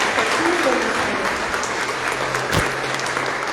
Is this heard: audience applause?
yes